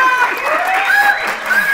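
An audience at a poetry gathering applauds and cheers a poet being introduced, with a short burst of clapping mixed with whistles and shouts.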